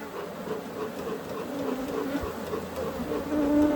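Africanized honey bees buzzing at a hive during a hive check, a dense, continuous close hum with individual bees flying past the microphone.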